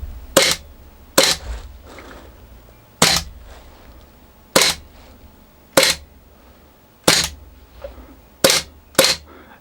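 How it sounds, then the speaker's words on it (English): ASG CZ SP-01 Shadow airsoft pistol with its slide cycling, giving eight sharp, loud mechanical snaps spaced roughly a second apart, each with a brief metallic tail and faint handling noise between. "So I'll hold the slide mechanism down so you can sort of see it operating."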